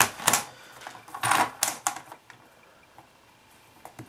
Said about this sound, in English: so cut a slither off on either side.